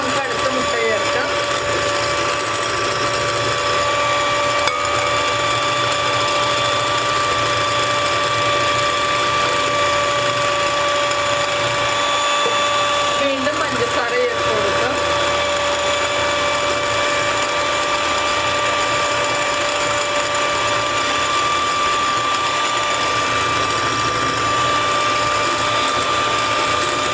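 Electric hand mixer whirring steadily as it beats eggs and sugar for a chocolate sponge cake batter, a continuous close motor drone with a few brief clatters, with a voice speaking over it.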